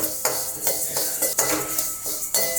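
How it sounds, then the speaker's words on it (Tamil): Sesame seeds roast in a pan over a medium flame under a light crackling hiss, broken by several close scraping stirs of a utensil against the pan. "எள்ளு வந்து அப்படியே கொஞ்சம் அப்படியே பொரியுங்க, சவுண்டு கேட்கும்."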